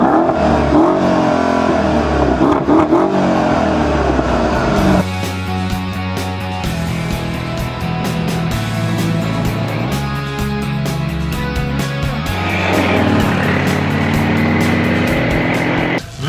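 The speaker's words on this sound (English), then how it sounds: "I'm starting it up" A 2013 Mercedes-Benz SL63 AMG Roadster engine fires up loudly and close, settles into a deep idle, then revs several times with rising and falling roars.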